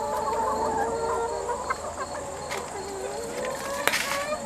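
Backyard broiler chickens clucking near and clear, several short cackling calls over a busy outdoor background with a faint voice in the mix.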